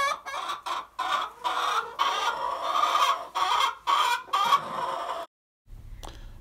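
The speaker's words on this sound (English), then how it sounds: "It's the egg laying song. Eggs in the coop." Hens in a coop clucking the egg laying song, loud close repeated clucks and squawks in uneven bursts for about five seconds, then a sudden cut to silence and a low hum.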